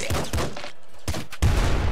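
Rapid gunfire bursts in the video game Nuclear Throne, with two short volleys separated by a brief gap and a louder burst at the end.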